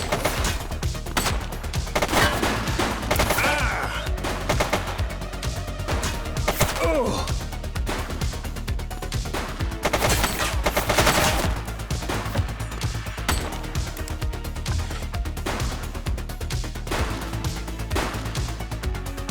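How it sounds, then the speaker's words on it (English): Gunfire rattles in The Precinct video game as dense, continuous bursts of shots fill the whole stretch at steady loudness, with scattered heavier cracks over the clatter. "Shots fired!"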